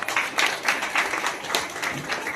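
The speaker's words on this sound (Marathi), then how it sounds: "सर्वांनी वैशालीताई यांच्यासाठी टाळ्या वाजवून त्यांचं अभिनंदन करावं." An audience at a ceremony for a saint's death anniversary in Nagpur claps together, a dense, rippling applause held at an even level for a couple of seconds.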